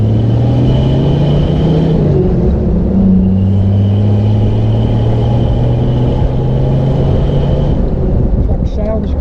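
An old Jeep truck engine runs steadily with a low rumble, its pitch dipping and rising as gears shift and the truck accelerates, heard from inside the cab, close and loud.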